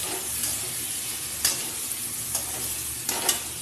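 Pumpkin curry with spices being stirred in a pan, a continuous sizzle of frying with occasional scraping strokes of the spoon against the pan, close and steady.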